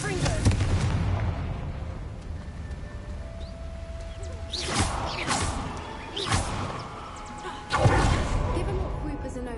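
A Confringo blasting spell in Hogwarts Legacy sets off several booming explosions with crackling debris, spaced across the scene amid background rumble and a spoken voice.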